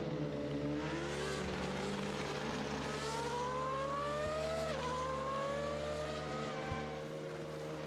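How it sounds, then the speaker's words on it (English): A V8 race car engine in Automobilista 2 roars past, its pitch climbing through gears and then dropping as it goes by, with another engine droning steadily behind it. "that was the V8"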